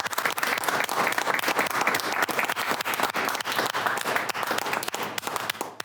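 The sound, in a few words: audience applause for the professor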